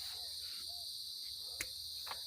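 Crickets or cicadas chirp in trees on a rural farm in the late afternoon, a steady high-pitched shrill drone that runs continuously through the scene, with a couple of brief sharp clicks nearby.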